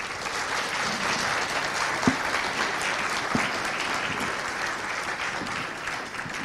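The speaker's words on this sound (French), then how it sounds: "Je vous laisse les applaudir chaleureusement." A conference crowd warmly applauds after the first talk at a cybersecurity event: a sustained, even wash of many hands clapping from a large room, steady for over six seconds.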